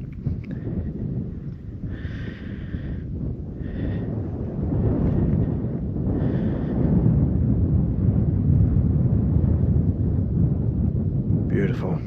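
Cold wind blows steadily across an open hilltop near Back Tor, a dense low rumble and microphone buffeting that thickens toward the end, with faint chirping or voices briefly above it.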